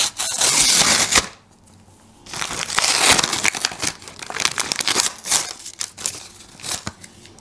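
A paper surprise packet of stickers is torn and unfolded close up, with loud bursts of crinkling and rustling separated by brief quiet pauses.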